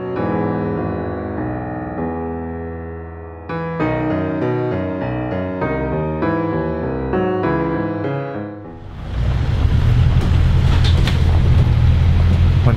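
Dublin Route 15 bus on Amiens Street, a tonal drivetrain hum that steps through changing pitches as it accelerates, then gives way to a louder, rougher broadband roar of road and engine noise near the end.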